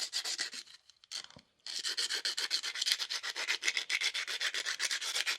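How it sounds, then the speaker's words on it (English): Scrubbing to clean the top of a brass capped rivet before soldering, a close rhythmic back-and-forth rubbing with one brief pause near the start. "we need to clean up the top of that rivet"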